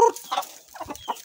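Asil gamefowl stags and hens cluck close by at feeding time, several short throaty clucks in quick irregular succession.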